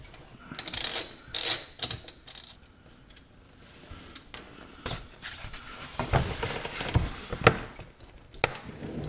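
A hand ratchet clicks away while loosening T45 Torx bolts on the rear of a car's plastic undertray, with bursts of rapid ratcheting and clattering metal, close and fairly loud, no talk.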